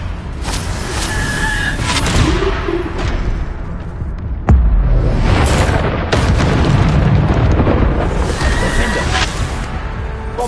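A Bombarda explosion spell in a video game duel, with heavy booming blasts, one sharp burst near the middle, and rumbling impacts layered through a loud, continuous battle din.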